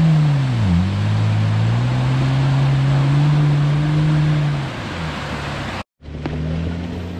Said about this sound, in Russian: как же здесь хорош двигатель